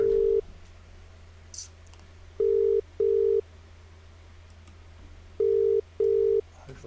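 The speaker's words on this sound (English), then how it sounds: "I'll make some phone calls." A telephone ringback tone pulses steadily in paired bursts while calling a guest, a low steady hum running beneath the whole stretch with no talking.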